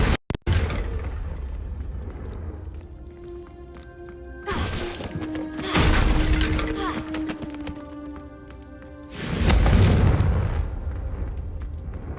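Confringo spell blasts in the Hogwarts Legacy video game: several heavy booming explosions with rumbling tails, loud and near, spaced apart amid game sounds and brief voices.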